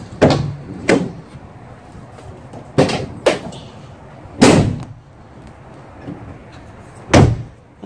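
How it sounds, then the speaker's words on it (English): Sliding and slamming the door of an insulated Mercedes Sprinter van produces about eight loud, close thumps at uneven intervals, each a solid, deadened bang with quiet handling noise in between. "That door sounds way more solid."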